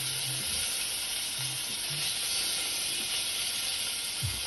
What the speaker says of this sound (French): Je prends mes tomates avec un petit filet d'huile. Je fais gentiment rôtir.